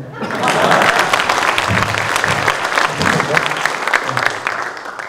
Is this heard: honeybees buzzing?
no